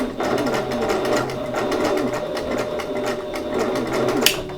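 A domestic sewing machine runs steadily while free motion quilting slowly around the edge of a fabric block, its rapid even stitching buzz close and continuous throughout.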